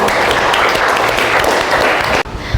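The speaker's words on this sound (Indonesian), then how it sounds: "berikan tepuk tangan untuk kelompok Mas Gibran" Classroom applause for a student group after a geometry lesson, a dense steady patter of clapping that fills the room for about two seconds before stopping abruptly.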